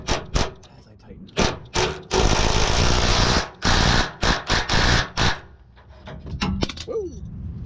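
A bolt tightened with a wrench during a repair, heard as loud, irregular bursts of metallic rattling and grinding with short pauses between them, and a voice briefly near the end.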